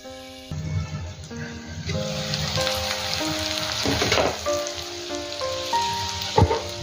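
Bitter gourd and onions sizzling in a pan, a close steady crackle with occasional clinks and scrapes from stirring, no talk.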